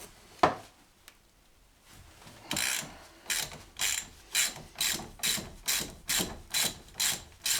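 Hand ratchet loosening brake caliper bolts on a Chrysler Grand Voyager, a few single clicks then a steady run of about a dozen evenly spaced ratcheting bursts, close and clear.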